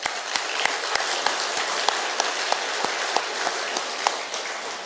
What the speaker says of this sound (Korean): 박수 한번 할까요?